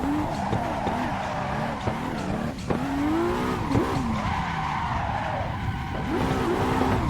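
A race car understeers and skids through a corner in a racing video game, with tyres squealing in wavering, sliding tones over a steady engine drone, loud and continuous.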